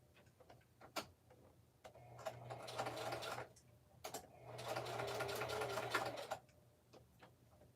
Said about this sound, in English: I'm over here sewing